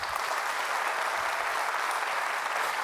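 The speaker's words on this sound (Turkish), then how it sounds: "yanılmıyorsam güçlü bir alkış bekliyorum" Steady, dense applause from a large studio audience at a televised quiz show, loud and sustained throughout with no voices standing out.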